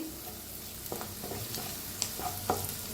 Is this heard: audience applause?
no